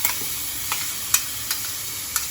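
Ginger and green chilli paste sizzling in a pan while being stirred, a constant bright hiss broken by several sharp spatula clicks and scrapes, close up with no voices.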